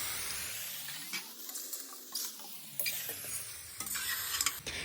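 Boiled pork being stirred in a hot wok without oil gives a soft sizzle with scraping spatula strokes against the metal. It is fairly quiet and close, and the strokes come in an uneven rhythm.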